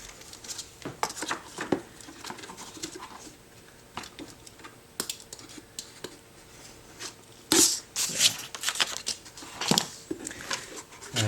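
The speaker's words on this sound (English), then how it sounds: "take our thin cardboard again, and cut" Thin cardboard is cut while covering a slipcase, giving scattered sharp clicks and snips. A denser burst of crisp cutting sounds comes near the end, over quiet room tone.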